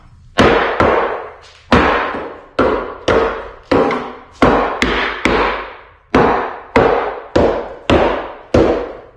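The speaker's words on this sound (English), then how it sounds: "just beating on things, taking the rasp and really just getting in and trying to rough up the wood" A wooden fireplace mantle beam is beaten to distress and rough up the wood, giving about fourteen sharp, loud knocks in an irregular rhythm, each with a short decaying ring and no talk.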